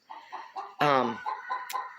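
Chickens clucking beside a chicken sink, a string of soft, close clucks broken by one louder squawk partway through.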